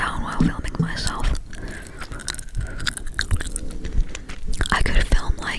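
Gum being chewed close to the mic, with wet, sticky mouth clicks that keep coming steadily beneath a soft whisper from someone lying in bed.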